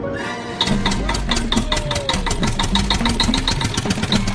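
A tractor engine starts and settles into a loud, close idle with a rapid, even knocking chug that runs steadily to the end, with no talk over it.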